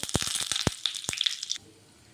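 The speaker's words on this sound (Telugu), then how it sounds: "నేను ఆయిల్ వేడి చేసుకున్నానండి. ఇదిగో జీలకర్ర ఆవాలు వేసుకుంటున్నాను." Cumin, mustard seeds and curry leaves hit hot oil in a tempering for tomato ginger chutney, crackling and popping in quick bursts with a steady sizzle that cuts off abruptly near the end.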